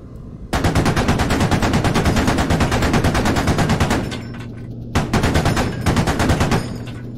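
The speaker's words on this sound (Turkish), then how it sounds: "Bize sıkıyor biri." Loud, rapid automatic gunfire from a weapon in the video game Squad, one sustained burst followed by a short pause and a second shorter burst, all close and without talk.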